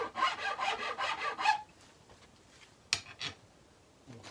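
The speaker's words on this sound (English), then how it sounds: "I'm using this flat end of the file, and that's getting it just about right." A flat metal file rasps across wood on a handmade guitar body built from a duck box, about eight quick strokes close up, then a pause and two more scrapes.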